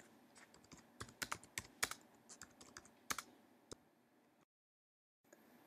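A site title is typed on a computer keyboard in quick, close bursts of sharp key clicks. The clicks are uneven, thin out toward the end, and are followed by a short silent gap, with no speech.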